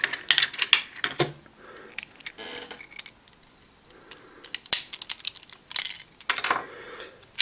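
Small plastic clicks and metallic rattles as batteries are pulled out of a Kamen Rider Build toy driver and set aside, in irregular bursts with quiet gaps between them.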